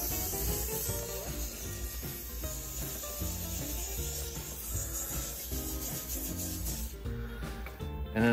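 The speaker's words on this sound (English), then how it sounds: "This is 600 grit sandpaper, and I just hit it real lightly" Steady scratchy rubbing of 600-grit sandpaper lightly sanding an aluminum honeycomb pen, continuous and close, with soft rhythmic strokes and a faint high whine underneath.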